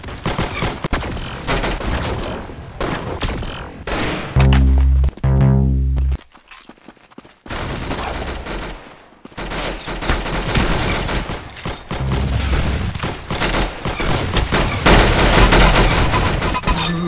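Gunfire in the video game Arsenal: loud rapid bursts and fast repeated shots crackle almost continuously, broken by one short lull before the shooting resumes.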